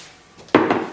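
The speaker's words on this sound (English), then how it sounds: "Now we're going to grease a bowl, which I'm just going to use this canola spray." A brief canola cooking spray hisses into a bowl in a short burst or two after a moment of quiet room tone.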